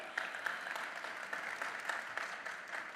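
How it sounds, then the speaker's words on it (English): An audience at the Global AI Summit 2024 claps for panel guests, a steady dense patter of many hands held at an even, moderately distant level throughout with no voices over it. "round of applause for my fantastic guests today"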